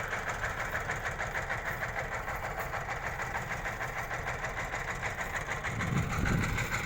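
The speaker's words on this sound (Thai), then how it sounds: "อันนี้เอารถไถน้อยนะครับ รถไถทำเองเอามาไถ" A small homemade converted tractor engine, plowing and planting cassava, chugs steadily nearby with a rapid, knocking rhythm, and a low thump swells briefly near the end.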